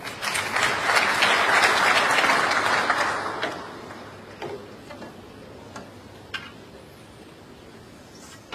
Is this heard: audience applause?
yes